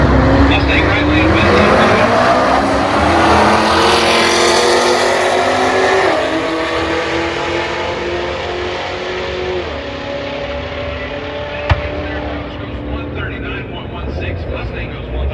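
A twin-turbo Boss 302 Mustang roars down a drag strip at a street car event, a loud engine wail climbing through gears and fading into the distance, with a public-address voice talking over it.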